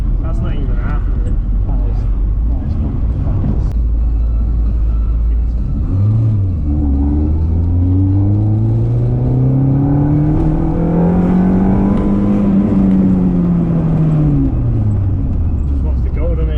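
An engine-swapped car accelerates hard through second gear on a motorway, the engine note climbing in a long rising sweep after a shift and then falling away, loud and close inside the cabin, with someone talking over it.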